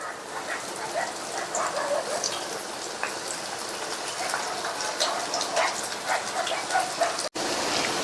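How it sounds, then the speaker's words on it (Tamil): Marinated cauliflower pieces sizzle in hot oil in a kadai, a steady crackling hiss with scattered pops, moderately loud and continuous, with a short clatter near the end. "நம்ம மேரினேட் பண்ணி வச்ச காலிஃப்ளவரை இப்படியே எடுத்து ஒவ்வொன்றா எண்ணெயில சேர்த்துடலாம்"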